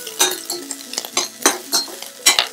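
Onions and tomato are sautéed in a pan for a chicken drumstick soup, with irregular scraping stir strokes and light spoon clinks against the pan over a soft, low sizzle.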